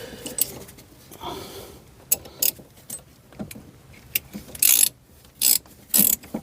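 Ratcheting wrench clicks while a brake bolt is tightened on a Volvo 740, short bursts of crisp metallic ratchet strokes coming in quickening groups, close up and alone.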